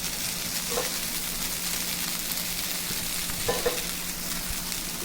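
Fried rice sizzling steadily as it is stir-fried in a pan over high flame, a continuous close frying hiss with a couple of faint scraping stir sounds.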